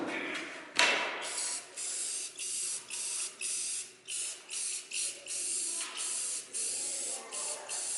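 Short repeated bursts of spray paint hiss close by as a final coat goes on top of a workshop base, a sharp click at the start, then a steady rhythm of pauses and sprays.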